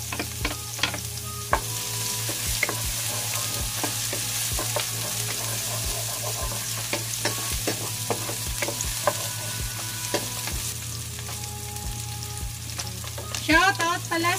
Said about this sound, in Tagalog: I-mix na natin yung ating bawang